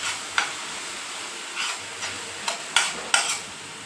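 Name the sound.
sautéing garlic-green chili thecha with wet mung beans in pan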